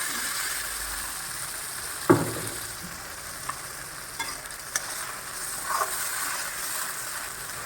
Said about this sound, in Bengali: একটা ভাজা গন্ধ আসা অবধি আমি ভাজবো এটা